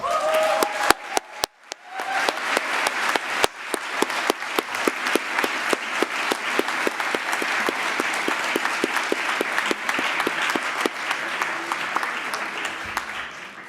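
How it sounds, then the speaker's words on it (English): A large audience at an induction ceremony for new Academy of Science fellows breaks into sustained, even applause after a few scattered early claps, the clapping dense and steady to the end. "please, but please again applaud the new fellows of the Academy of Science"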